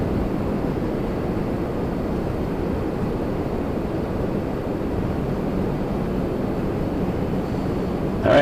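A Porter airplane departing from Toronto Pearson airport, a steady broad engine roar heard from a distance, unchanging and continuous throughout.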